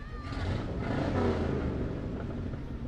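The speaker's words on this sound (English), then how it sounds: "I'm just going to turn up the audio because I want to hear these engines." Heavy pickup truck engines rumble loudly and steadily nearby in a Fourth of July parade, a deep continuous roar of large vehicles moving past.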